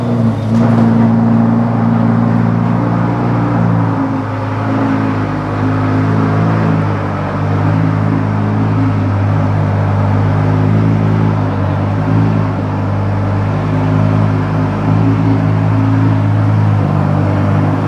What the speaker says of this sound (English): Okay, so I want you to hear this one because this is like the cream of the crop race exhaust.